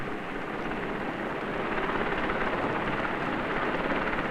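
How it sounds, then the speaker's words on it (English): Coast Guard and oil company helicopters on daily surveillance patrols over offshore oil waters, a steady broadband rotor and engine roar that holds constant and swells slightly louder partway through, with no voices. "Coast Guard and oil company helicopters flew daily surveillance patrols to check for oil on the water."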